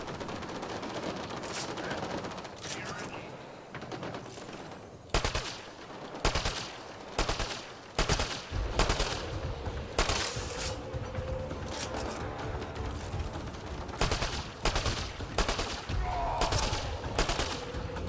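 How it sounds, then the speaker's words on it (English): Gunfire from a weapon in the video game Mass Effect: Andromeda, sounding as repeated sharp shots and rapid bursts that come loud and close throughout, with no talking. "Man, that gun is inaccurate at long range."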